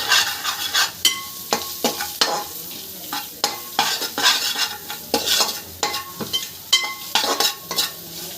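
Onion, curry leaves and salt frying in a tempering pan, a close sizzle broken by repeated rhythmic spoon scrapes and clinks against the metal pan, no talk.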